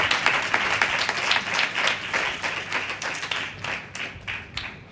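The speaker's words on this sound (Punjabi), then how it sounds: "ਤਾੜੀ ਮਾਰ ਕੇ ਪ੍ਰਭੂ ਦਾ ਧੰਨਵਾਦ ਕਰਾਂਗੇ" A church congregation clapping together in praise during a worship service, a loud, steady burst of many hands close by that keeps an even rhythm throughout.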